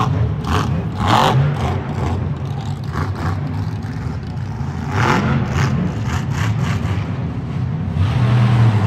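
The Bad Company monster truck's engine revs and whirs during a Monster Jam freestyle run in San Antonio, loud bursts rising and falling over a steady roar, heard alongside arena noise and commentary.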